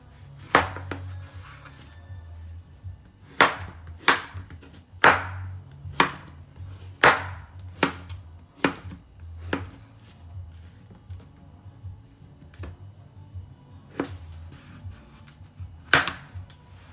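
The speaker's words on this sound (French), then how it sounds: "Maintenant, je vais couper le courgette." A knife cuts through zucchini on a board in a steady series of sharp, close chops, roughly one every second or two with brief pauses, with nobody talking.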